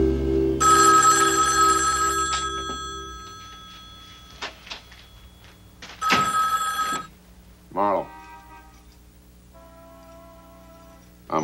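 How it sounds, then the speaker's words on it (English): An old-fashioned office telephone bell rings in short bursts with quiet gaps between, alongside clicks and a voice speaking, in a radio detective drama. "The phone was ringing."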